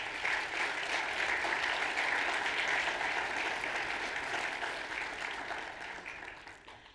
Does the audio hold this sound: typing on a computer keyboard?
no